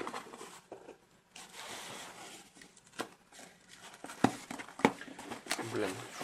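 Parcel packaging from China being cut and torn open with scissors and hands, a close, quiet run of rustling, crinkling and ripping with a few sharp snaps, while a person talks throughout.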